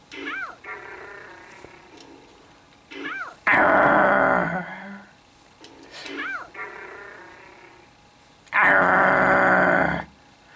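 Yoshi from the Super Mario Strikers video game lets out gravelly growling grunts in two loud bursts, each led by short squeaky chirps, with quieter game sounds between them.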